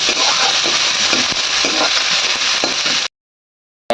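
Chopped onion and green chili fry with black cumin in a pan, a steady close sizzle with stirring scrapes that stops abruptly near the end.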